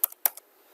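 A few quick keystrokes on a computer keyboard enter a web address into a browser's address bar, two crisp close clusters of taps and then quiet.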